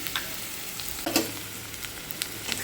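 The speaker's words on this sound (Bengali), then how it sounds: "চলো পেঁয়াজটা দিয়ে খুব ভালো করে নাড়াচাড়া করে ভেজে নিই" Onions stir-fried in a pan give a continuous soft sizzle with a few faint scrapes and one brief clatter near the middle, close and steady with no speech.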